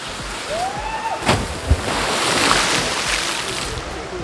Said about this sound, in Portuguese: A gente chegou em uma das cachoeiras chamada Cachoeira do Tobogã